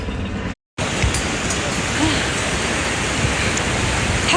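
Rushing mountain river and waterfalls along the Kedarnath trek near Rambara, a steady broadband roar that stays loud throughout with a brief dropout near the start.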